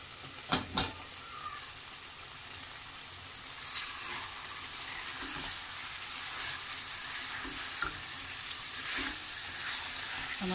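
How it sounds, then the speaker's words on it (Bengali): Potatoes frying with spices in a pan make a steady, bright sizzle, with two sharp utensil clinks at the start and occasional stirring scrapes afterward. "আমারটা প্রায় ভাজা ভাজা হইতেছে, আলু মিক্স হয়ে গেছে মশলার লগে"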